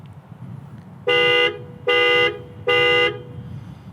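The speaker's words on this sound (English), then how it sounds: "so it flashes the lights, beeps the horn" Three loud, blaring horn blasts from a 2018 Toyota Tacoma TRD Off-Road's panic button, each about half a second long and evenly spaced, sounding close over a low background rumble.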